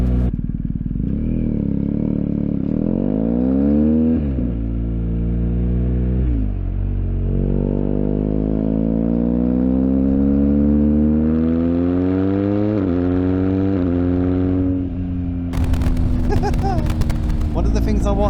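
A BMW R1250R motorcycle fitted with an SP Engineering exhaust, its boxer engine heard close with several rising and falling revs, deep throbbing tone swelling and dropping, ending in a rattling clatter.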